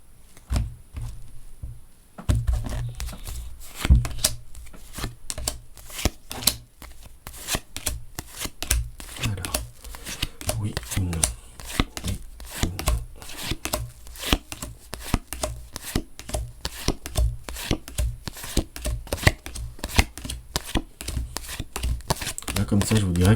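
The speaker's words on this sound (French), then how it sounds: "je vais battre les cartes" Tarot cards are shuffled continuously, close and crisp, producing a dense run of rapid riffling and slapping sounds after a brief quiet start.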